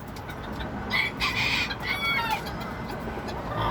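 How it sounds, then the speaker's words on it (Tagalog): A gold bantam hen clucks close by in short bursts, with other chicken sounds in the background. "Yan po yung binabay nating gold na bantam."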